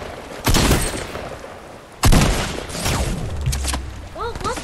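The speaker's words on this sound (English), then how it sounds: "That's called gun noises." Gunfire in the video game Fortnite: two loud bursts of shots about a second and a half apart, with a rattling tail, followed by fainter chirping game effects at the end.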